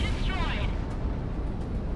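A large explosion destroys an enemy aircraft in the flight combat game Project Wingman, a loud, dense rumbling blast with a rolling shockwave that fills the whole two seconds.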